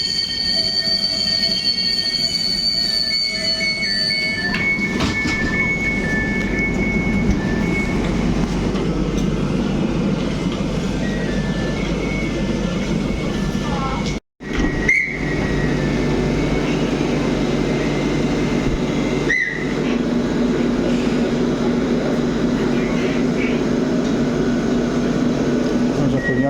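A train rumbles through Łowicz Główny station at length with high metallic wheel squeals along the rails, a steady loud roar broken by a brief dropout midway.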